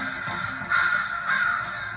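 Crows give two harsh, rasping caws about half a second apart, moderately near and standing clearly above a low outdoor hum, with no voices present.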